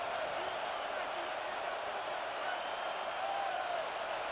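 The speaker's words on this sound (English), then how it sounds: "This crowd into it now as we get to 3rd down." Stadium crowd in the Madden 26 football video game gives a steady, broad roar of cheering and murmur that holds at an even level throughout.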